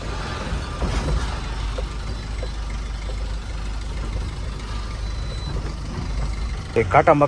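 A goods truck reverses out after loading in Bangalore, its regular reversing beeps repeating over a low idling engine rumble, with a brief louder clatter near the end.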